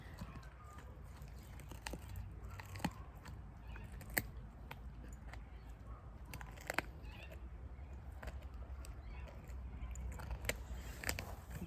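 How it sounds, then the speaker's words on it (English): An animal gnaws on a bone close by, a quiet run of irregular crunching and sharp clicking bites over a low background hum. "The bone chewing's very distracting, isn't it?"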